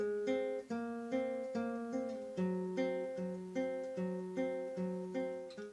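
Guitar plays the two-bar fourth ostinato from Villa-Lobos's Etude 5, a repeating pattern of plucked notes over a low bass note, evenly paced and clear, soft and close, with no talking.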